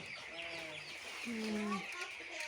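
Broiler chickens on a home farm in rural Bangladesh cluck and call in short, overlapping bursts, fairly close, over a steady background hiss.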